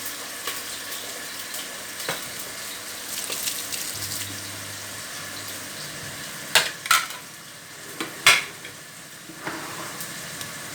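Oil with onion and garlic frying in a pan for a herb dish, a steady soft sizzle with a few sharp clinks and stirring knocks of utensils against the pan, no talking.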